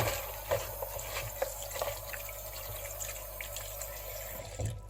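Steady running tap water splashes into a sink with a continuous hiss and small irregular splashes, close by, until the flow cuts off at the end.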